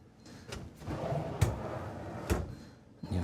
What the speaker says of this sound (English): 4 nice pull-out drawers.